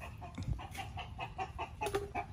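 Chickens cluck repeatedly at moderate distance outdoors, a run of short, irregular calls overlapping one another, fairly faint against quiet background noise.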